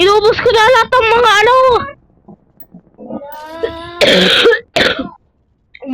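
A person makes strained, throaty vocal sounds, then gives two sharp, harsh coughs close to the microphone, separated by short silences.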